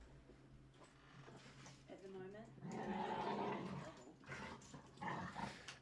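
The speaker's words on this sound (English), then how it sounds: "there's happy pups, but they're also fighting because, you know, dogs" Small dogs growl, yip and bark while scuffling over a small orange ball, the noisy play rising and falling close by beneath a person talking.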